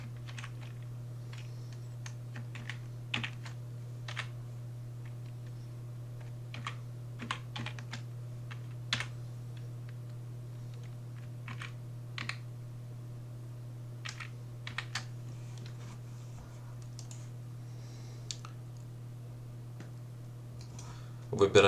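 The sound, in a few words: typing a code on a computer keyboard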